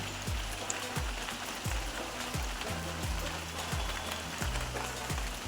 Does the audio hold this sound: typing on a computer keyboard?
no